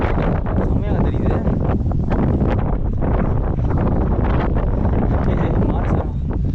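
Steady wind roars across the microphone at Lohagad Fort in the mountains of Maharashtra, India, a loud and constant buffeting rush that never lets up.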